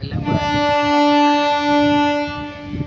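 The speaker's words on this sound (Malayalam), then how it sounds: "അപ്പുറത്തുനിന്ന് ട്രെയിനിൻ്റെ സൗണ്ട്" A train next to a railway station sounds a loud, sustained horn that holds a steady tone for about two seconds before fading, with rumbling noise beneath it.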